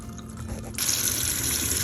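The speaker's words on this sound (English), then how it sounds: "I think I'm just gonna hand rinse this under some running water and then stick it in there for a spin." Tap water runs into a sink as a washcloth is rinsed by hand, with soft splashing at first and then a steady, close rush of flowing water once the stream opens up.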